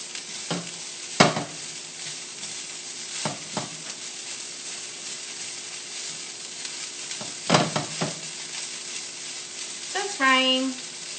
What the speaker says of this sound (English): So this is the Tao part of the Tao fan, because you are tossing the rice.